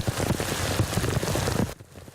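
Heavy storm rain pours down hard in a dense, continuous roar on surfaces before cutting off abruptly.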